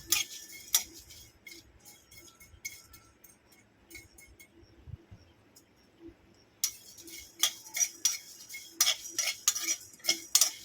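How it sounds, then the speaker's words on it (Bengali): A spatula scrapes and clinks against a dry pan in irregular bursts, with light rattling of fennel seeds, dried red chillies, cumin and whole coriander being tossed and stirred. "মৌরি শুকনো লঙ্কা জিরে গোটা ধনে এটা একটু ভেজে নেব"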